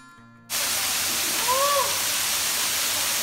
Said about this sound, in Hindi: तो ये वाटरफॉल है